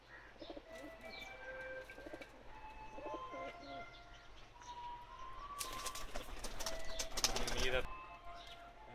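Golden pigeons, an adult and a young bird among other Pakistani breeder pigeons, coo and chirp in a loft, joined by a brief burst of flapping wings and faint voices in the background.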